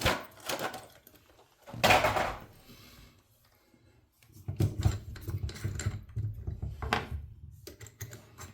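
Shower valve parts are scrubbed with a bristle brush, giving bursts of close, scratchy rasping in short irregular strokes, separated by quieter pauses and handling clatter.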